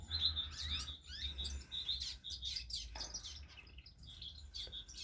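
Zebra finches in an outdoor aviary keep up a busy chorus of high chirps and short tweets, close and fairly faint, layered over a low background hum, with no voices.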